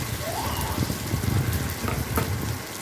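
Spice paste with onion fries in oil in a pan for a Bengali katla fish curry, a steady close sizzle with faint stirring scrapes and no talk.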